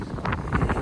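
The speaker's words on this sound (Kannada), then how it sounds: "ಗಾಳಿ ತುಂಬ ಜೋರಾಗಿ ಬೀಸ್ತಾ ಇದೆ." Strong wind gusts buffet the microphone in a quick series of rough, close rumbling blasts, loud and continuous with no talking.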